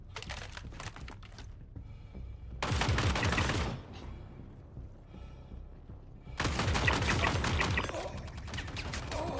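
Video game gunfire: light clicks, then a dense burst of rapid shots lasting about a second. After a pause, a second, longer barrage of fire runs on to the end.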